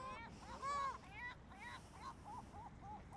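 Seagulls call with a run of faint, distant squawks and cries, one longer call followed by shorter repeated yelps, alone against quiet background noise.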